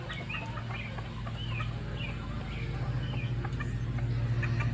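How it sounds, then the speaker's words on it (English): Several Polish roosters and hens cluck and chirp softly in the near distance over a steady low hum, a continuous scatter of short calls, as the mixed flock heads into the coop. "yep, the roosters are out here"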